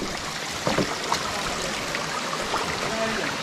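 Water rushing from the dam at Kawasan Falls in Cebu, a steady broadband roar that fills the whole clip, with faint voices and small splashes mixed in.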